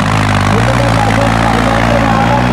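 Fiat tractor engine running at a Punjabi tractor competition, a loud, steady low throbbing drone with a constant hum throughout, heard close with no clear talk over it.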